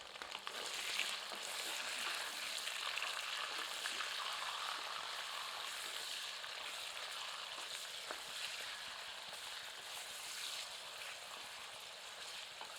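Half a kilo of goat mutton pieces fries in hot oil with bay leaves over medium heat, giving a long, even, soft hiss of sizzling with faint crackles.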